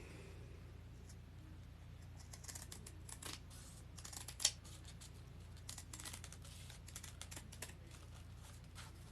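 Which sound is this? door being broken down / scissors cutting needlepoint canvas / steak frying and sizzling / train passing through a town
scissors cutting needlepoint canvas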